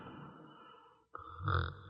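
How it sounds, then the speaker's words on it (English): A woman snores in an old radio drama, a soft, short snorting breath rising after a brief pause, faint and close against a quiet background. "She snores,"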